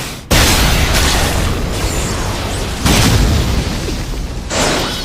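Fire Release jutsu explosions from the Naruto anime: a loud broadband blast after a brief silence, followed by sustained rumbling roar with two further bursts near the middle and end.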